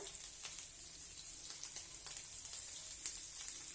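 Vegetables for a paneer roll fry in a pan with butter, giving a steady, close hiss of sizzling with faint crackles and one sharp pop near the end, without talk.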